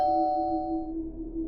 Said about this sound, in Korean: 또 한 번 초인종 소리가 들렸다.